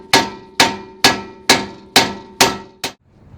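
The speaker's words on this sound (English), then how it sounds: "I'm going to use a 3-pound sledge." Seven sharp, evenly spaced metallic blows ring out as a 3-pound sledgehammer strikes a Honda axle during a DIY axle replacement, each hit loud and close with a brief clanging decay, the last one cut short.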